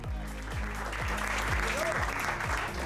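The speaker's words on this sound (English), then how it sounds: "Give them another round of applause." Audience applause at a sales event, steady dense clapping filling the room throughout, loud and continuous.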